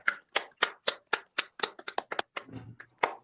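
A short burst of hand clapping rings out in a lecture hall at a theology institute seminar, a few distinct claps at a steady rhythm, sharp and close, with no talking over them.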